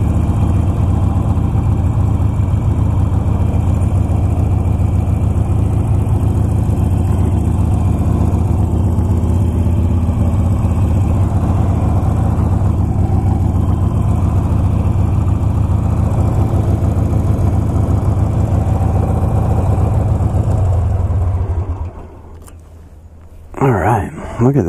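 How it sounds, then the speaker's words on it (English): Motorcycle engine running steadily at low idle while the rider parks at a scenic riding spot, a continuous close rumble lasting about twenty seconds before cutting off abruptly near the end. "Just gonna find a place to park and get off this bike"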